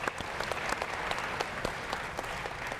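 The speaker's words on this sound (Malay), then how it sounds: "ayuh kita berikan tepukan paling gemuruh kepada guru-guru kita" An audience at an education forum applauds teachers with dense, sustained clapping at a steady moderate level. The crowd is heard from a distance, with no voices over it.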